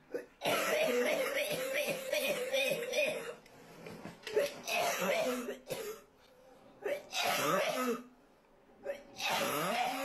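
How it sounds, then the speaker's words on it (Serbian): A person coughing and clearing their throat in repeated rough bursts separated by short pauses, fairly close and loud, with voices mixed in. "zašto je snimila 15 sekundi kako kašlje?"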